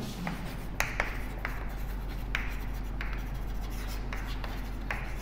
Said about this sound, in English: so we will write in ascending order.